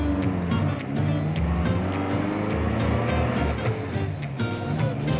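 Vintage MG TC roadster with a standard 4-speed gearbox on a test drive, its engine droning loud and steady from inside the car, with wind and road rumble throughout.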